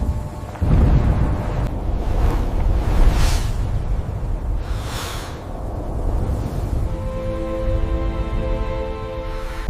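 Loud video game storm wind roars and gusts continuously, with deep rumbling swells and whooshing bursts, no voices.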